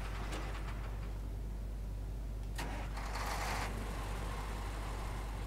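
The Azov truck's engine idles in Snowrunner as a steady low rumble, with a brief rev or start-up swell partway through and no talking.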